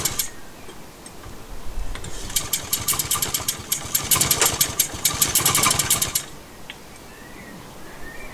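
An Atco Standard petrol lawn mower engine fires and runs for about four seconds with a rapid, ticking run of firing pulses, then cuts out and leaves quiet background noise.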